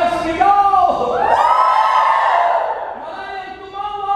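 A church congregation at a Hong Kong mission gathering shouting together, a loud sustained swell of massed voices and whoops that rises, holds and tapers over a few seconds.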